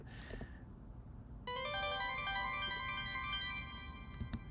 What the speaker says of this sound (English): there's this synth called Luminous Tines,